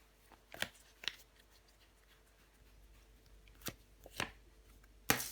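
Tarot cards being handled on a table, a few soft separate slaps and slides as cards are laid and covered, quiet and close with long pauses between.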